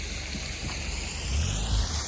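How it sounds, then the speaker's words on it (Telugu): A small hidden roadside waterfall on a mountain road toward Gangotri, its pure water trickling in a steady, soft wash with a low rumble that swells slightly near the end. "ఇక్కడ చిన్న హిడెన్ వాటర్ ఫాల్ ఉంది చూడండి"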